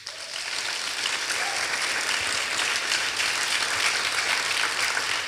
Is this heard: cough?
no